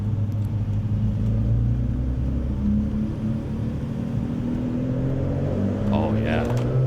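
A TVR Cerbera Speed 12 street-legal supercar's engine rumbles deep and steady in a city setting, a fairly loud, continuous low drone with slight rises in pitch.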